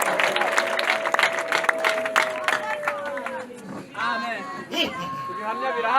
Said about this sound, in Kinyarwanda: tuguhaye amashini impundu nyinshi mu izina rya Yesu Kristo umwami wacu